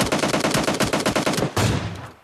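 Rapid bursts of automatic gunfire from the battle royale game PUBG, loud and close, pound in a fast regular rhythm and then end with a final sharp blast that fades out.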